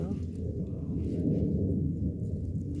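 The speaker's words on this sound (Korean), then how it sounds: "어, 비행기 소리 엄청나다." A loud airplane roars overhead outdoors in a garden of potted aeonium succulents, a steady low rumble filling the whole moment at close range, with no speech over it.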